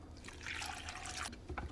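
A cup of water is poured into a blender cup, a short close splashing stream that runs for about a second and ends with a few drips, fairly quiet.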